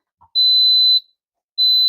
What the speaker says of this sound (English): That's about to do a big beep now at the minute